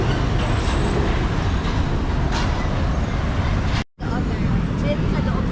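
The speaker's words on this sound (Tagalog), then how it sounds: "Hoy, tren." A train passing near a busy station area, a loud steady rumble mixed with surrounding traffic noise, broken by a brief sharp dropout before resuming; voices are heard talking over it.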